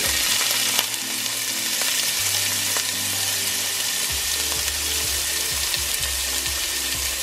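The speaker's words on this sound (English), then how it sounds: "I'm gonna put my onions and garlic in there, and then I'm going to let them brown." Onions and garlic frying in a hot pan give a loud, steady sizzle with occasional stirring clicks and scrapes throughout, close up and without talk.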